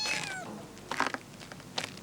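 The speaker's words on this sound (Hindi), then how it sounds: "ये नया शौक क्या पाल लिया मिर्जा, बिल्लियों का?" A cat meows several times in an indoor setting, a drawn-out cry at the start followed by two shorter, nearer calls, with faint room noise between them.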